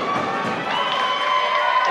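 A wrestling arena crowd in the TIW arena roars and cheers steadily after a dive through the ropes, a dense, sustained wash of voices with no break.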